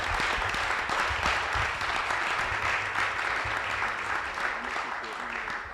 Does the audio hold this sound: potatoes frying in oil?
no